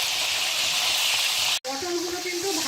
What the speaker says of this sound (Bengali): পটলগুলো সামান্য লাল হওয়া পর্যন্ত ভাজা ভাজা করে নিতে হবে।